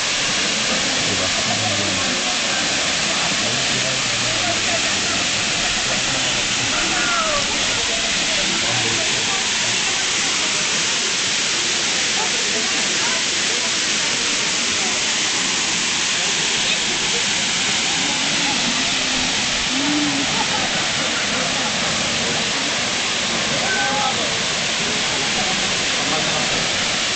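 A waterfall at Pagudpud pours steadily into a deep pool, making a loud, constant rushing hiss with no break, and faint voices now and then beneath it.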